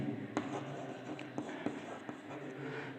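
A pen scratches out a class 10 real-numbers maths solution, a proof by contradiction, in a continuous run of close writing strokes broken by a few sharper taps and lifts.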